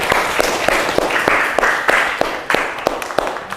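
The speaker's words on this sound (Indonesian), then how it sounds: "Tepuk tangan lagi buat kelompok ini ya" A classroom of students claps for a presenting group, a short burst of sparse, uneven hand claps over a noisy room hum.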